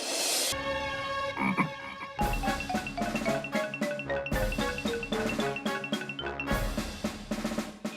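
Frog croaking in a comedy TV episode: loud, bright, repeated croaks in short bursts with tonal, musical-sounding swoops between them, close and prominent, and no speech.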